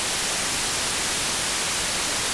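Steady white noise shaped by the Airwindows Slew3 slew-limiting plugin, an even, dense hiss across the band with no breaks or changes over the short stretch.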